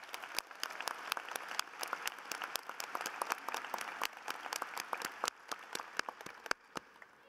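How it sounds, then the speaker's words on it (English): Applause for faculty advisors at a university political science commencement ceremony, a steady wash of many hands clapping with individual sharp claps standing out, moderately distant, continuing without speech before thinning toward the end. "Let's give the faculty advisors a round of applause."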